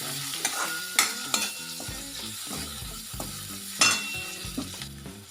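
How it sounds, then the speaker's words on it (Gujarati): Spiced chickpea curry with tomato, turmeric and coriander-cumin powder sizzles in a pan while being stirred, with steady frying hiss and repeated scraping, clattering spoon strokes against the metal. "હલાવી દેવાનું."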